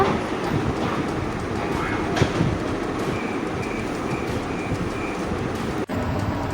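A train in the video game Indian Bike Driving 3D rumbles along steadily, loud and close, with a continuous clattering roll and a brief clank near the end.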